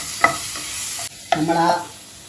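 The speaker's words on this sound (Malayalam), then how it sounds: "നമ്മൾ ആ പച്ച ടേസ്റ്റ് മാറുന്നത് വരെ ഇതിങ്ങനെ നന്നായിട്ട് വഴറ്റുക." Ginger and garlic sauté in a pan over a low flame, with two short bursts of sizzling and the scrape of stirring, close and fairly loud with no voices.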